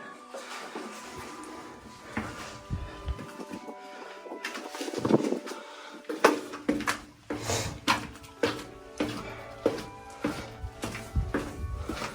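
Birds cooing and fluttering nearby in an old stone abbey ruin in County Mayo, Ireland, with soft repeated calls and scattered wingbeats and knocks, gradually growing busier and louder.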